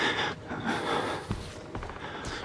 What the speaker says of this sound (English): It's very kind of hard to listen when you hear this guy just panting in the background